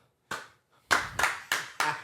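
A few scattered hand claps from a small comedy show audience welcoming a comedian, five sharp, close claps with uneven gaps and no talking.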